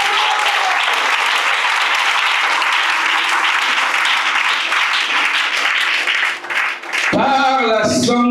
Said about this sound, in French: Ah, on acclame Jésus.